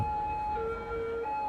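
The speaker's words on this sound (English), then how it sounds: "I'm going to get crushed by an ambulance." An ambulance siren in the city-building game Cities: Skylines sounds as steady wailing tones over a busy traffic and city ambience, fairly faint and continuous throughout.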